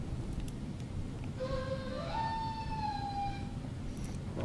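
A Turkish ney flute playing a kaydırma glide, a single breathy tone sliding smoothly upward from one note to a higher one and holding, faint over a steady hum of background noise.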